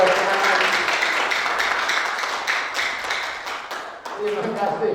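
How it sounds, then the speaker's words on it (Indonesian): An audience applauds with a dense, steady wash of many hands clapping. It tapers slightly toward the end. "Terima kasih kepada tepuk tangannya Maria."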